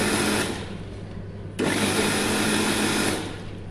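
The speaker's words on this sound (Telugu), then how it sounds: "ఒకసారి ఆన్ చేయాలి, 5 సెకండ్స్ తర్వాత మళ్ళీ పాజ్ చేయాలి, ఆన్ చేయాలి, పాజ్ చేయాలి, అలా గ్రైండ్ చేసుకోవాలండి దీన్ని." A mixer grinder whirs loudly as it blends a kova milkshake in short bursts, with a steady motor hum that surges sharply partway through, then eases slightly toward the end; no talking.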